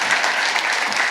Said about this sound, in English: We can have a round of applause for him.